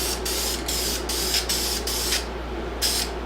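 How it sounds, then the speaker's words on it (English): Krylon white primer sprayed from an aerosol can in several short hissing bursts, close and loud, separated by brief pauses, with a low steady hum underneath. "So I am going to spray half of this."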